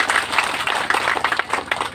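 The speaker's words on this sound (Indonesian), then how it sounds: "Tepuk tangan yang meriah untuk mereka" A crowd at a school ceremony handing over operating permits applauds school representatives: dense, loud, continuous clapping from many hands with no break.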